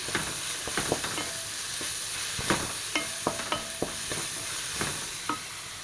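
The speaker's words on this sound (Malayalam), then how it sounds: "ഇഞ്ചി വെളുത്തുള്ളി ഒക്കെ നന്നായി മൂത്ത് വന്നിട്ടുണ്ട് ചെറിയ ഉള്ളിയൊക്കെ നന്നായി മൂത്ത് വന്നിട്ടുണ്ട്" Chopped shallots, ginger and garlic frying for a mixed biriyani, a steady sizzle in the pan broken by repeated scraping stirs of a spoon.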